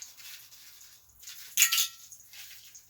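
Pop Rocks candy crackling in a poison apple drink, a faint fizzy crackle of tiny pops with one sharper burst of snapping in the middle, heard close and alone.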